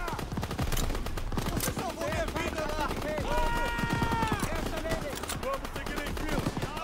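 Call of Duty WWII machine guns fire in dense, rapid bursts across a noisy battlefield, loud and continuous, mixed with shouting voices.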